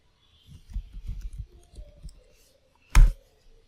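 A computer mouse clicks a few times in a quiet room during setup of Ubuntu in a VMware virtual machine: a soft cluster of small taps, then one sharp, louder click near the end.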